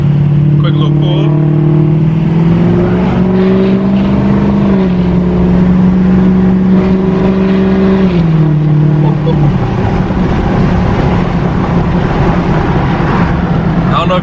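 A Ford F250 pickup with a 6.0 Power Stroke diesel accelerates, its loud engine drone rising through gear changes with pitch steps, then settling into a rough steady roar from inside the cab.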